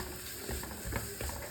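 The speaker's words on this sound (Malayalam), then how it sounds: "ഇനി ഒന്ന് നന്നായിട്ടൊന്ന് വഴറ്റിയെടുക്കാം." Onions and curry leaves sautéing in a pan while being stirred, a steady close sizzle with scraping strokes of the spoon breaking through at intervals.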